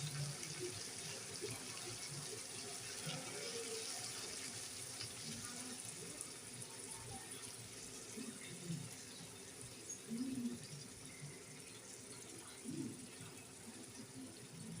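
Tap water runs in a soft, steady stream as mint and coriander leaves are rinsed for chicken pulao, faint and continuous, with a quiet voice briefly audible in the background.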